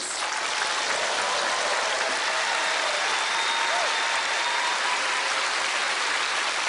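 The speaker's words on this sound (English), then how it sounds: "I'm sure you will receive a thunderous round of applause" Thick, steady audience applause follows a sleight-of-hand card trick on stage, a loud continuous wash of clapping with faint voices underneath.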